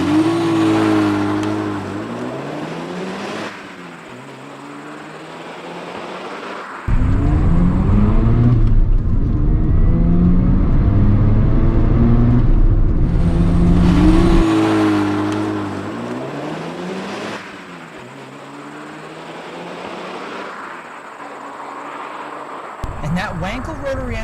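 A Mazda RX-7 FD with a twin-turbo Wankel rotary engine accelerates hard. Its loud, rising engine note climbs through several gear changes with brief drops between the pulls, and a voice talks over part of it.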